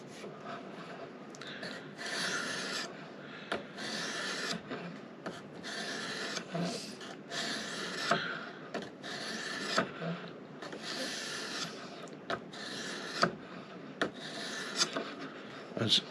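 Knife blade being stroked across a polishing whetstone during sharpening: repeated rasping rubs in an uneven back-and-forth rhythm, close and moderately quiet, with no speech.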